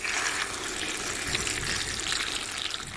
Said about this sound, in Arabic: راح نضيف المي الحار